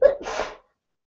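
A single sharp sneeze, close and fairly loud, with a quick intake of breath before it and silence after.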